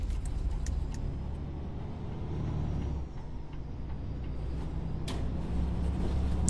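Simulated C2 NGT city bus in OMSI 2 turning around at a terminus, giving a steady low engine rumble throughout with a few faint clicks and a brief hiss near the end.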